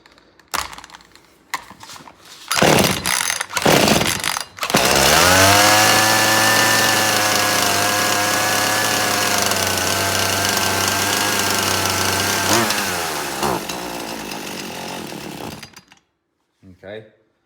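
A chainsaw engine idles and revs during carburetor adjustment, starting with a few sputtering pulls and bursts before settling into a loud, steady running drone for about ten seconds, then cutting off near the end.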